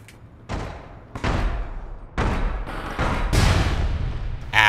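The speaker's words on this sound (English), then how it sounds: "Sounds like grenade launcher's still there somewhere." Heavy booming blasts from a grenade launcher in the online shooter APB Reloaded, five or six thumping impacts spaced irregularly over a few seconds, fairly loud and close with no talk over them.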